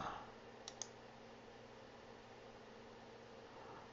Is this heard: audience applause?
no